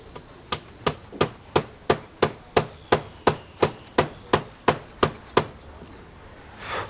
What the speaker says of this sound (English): So the dent is coming out slowly, and I might get a bigger hammer.